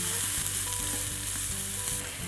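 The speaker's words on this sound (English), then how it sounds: "I just want to saute these for a couple of minutes so they soften a little bit." Chopped spring onions sauté in hot oil, a loud, close, unbroken sizzle running throughout with a low steady hum underneath.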